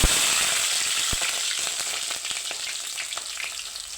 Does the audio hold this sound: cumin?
yes